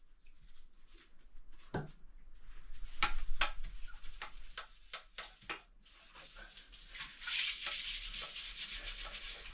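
A toilet bowl being scrubbed with a brush and toilet cleaner, giving steady wet rubbing strokes in an uneven rhythm, fairly close and alone without talk.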